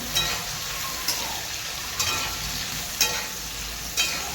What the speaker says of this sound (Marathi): छान असं मस्त फ्राय करून घ्यायचे सगळी भाज्या आपल्याला